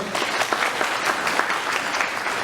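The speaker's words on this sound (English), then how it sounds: "Give him a round of applause" Audience applause at a Congressional Gold Medal award ceremony for Chinese American World War II veterans, a full, steady burst of clapping from a crowd, loud and continuous for a couple of seconds.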